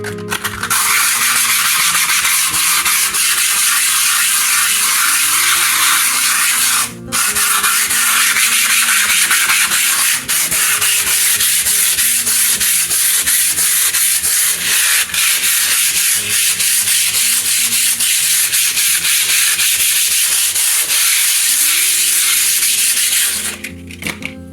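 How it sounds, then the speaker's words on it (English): Steady coarse rubbing of rough P80 sandpaper across a surface being prepped for oil-based clay, a continuous loud scratchy hiss with brief pauses near the start and end. "So all you need to do is just use some sandpaper. In this case we're using a P80, quite rough"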